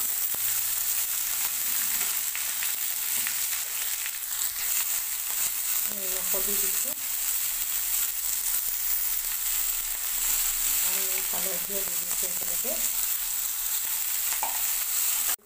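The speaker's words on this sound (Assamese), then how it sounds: "এতিয়া মই তিতাকেৰেলাখিনি ভাজিম, পিঁয়াজ দিছোঁ, এতিয়া তিতাকেৰেলাখিনি লগতে দি দিছোঁ" Bitter gourd and onion fry in a pan with salt and turmeric, giving a continuous close sizzle with occasional stirring scrapes; someone talks briefly over the cooking twice.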